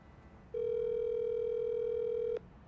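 A phone call ringing through a computer: one steady electronic tone, held for about two seconds, then cut off abruptly, clear and alone over faint background hiss.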